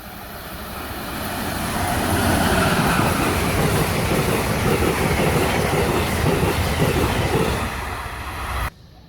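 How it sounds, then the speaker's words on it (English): Amtrak train number 640, a long-distance service, rumbling past at close range with steady clattering wheels that swell and hold loud before cutting off abruptly. "we catch Amtrak number 640"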